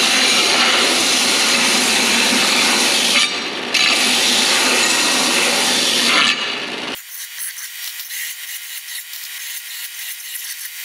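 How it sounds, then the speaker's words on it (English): A belt sander cleans up freshly cut steel pieces for a lowboy trailer repair, giving a loud, steady broadband grinding roar with a brief dip midway, then cutting off into quieter shop background. "I'm gonna throw them in the belt sander here and get them cleaned up a little bit."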